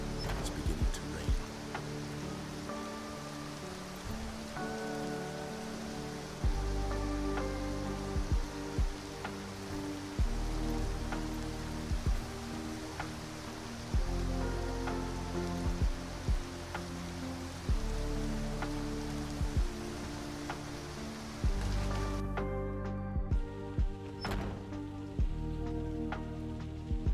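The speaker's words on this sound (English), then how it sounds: "It's beginning to rain." Rain falls in the video game Skyrim, a steady soft patter running under louder game music and other in-game sounds for the whole stretch.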